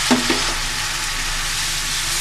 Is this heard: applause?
no